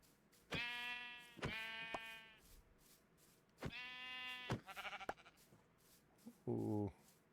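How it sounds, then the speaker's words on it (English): Sheep in a survival crafting game bleat in a few separate calls, each a short nasal baa with clear harmonics, spaced over several seconds with gaps of quiet between them, ending on a lower, rougher bleat. "Sheep."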